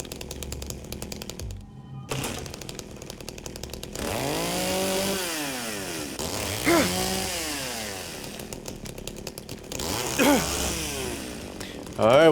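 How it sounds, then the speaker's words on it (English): A chainsaw engine in the Silent Hill 2 Remake video game idles and revs repeatedly, its pitch sweeping up and down loudly across the whole stretch, with a person talking at points over it. "I hear the chainsaw."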